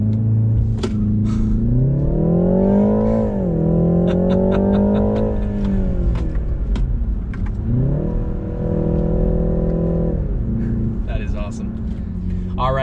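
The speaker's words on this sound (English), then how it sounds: "This is our last launch control for today." A 2020 BMW 330i xDrive launches hard under launch control, engine note climbing loud and close, dipping briefly at each of two gear changes before rising again.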